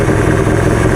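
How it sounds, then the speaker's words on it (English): A 1984 Ford LTD Crown Victoria engine idles near 750 rpm, running loud and slightly shaky with a steady, close mechanical drone throughout. "when it's idling the way it wants to be, it seems okay. It is a bit loud and shaky."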